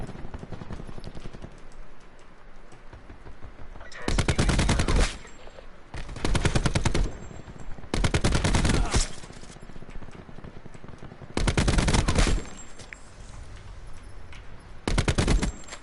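Automatic gunfire from a Black Ops 4 video game comes in five loud, sustained bursts of about a second each, separated by quieter stretches of ambient game sound, with no talking over it.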